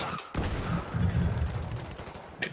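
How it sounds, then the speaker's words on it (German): Loud explosive weapon fire and blasts from a rocket launcher in the Battlefield 3 shooter game, a sudden burst that rumbles on as sustained combat noise with a sharp crack near the end. "Oh, Raketenwerfer war das, ne?"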